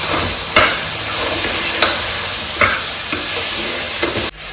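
Mushrooms, carrots, beans and green peas sauté with millet in a pan, giving a continuous close sizzle punctuated by periodic stirring scrapes at a slow, regular pace, ending abruptly.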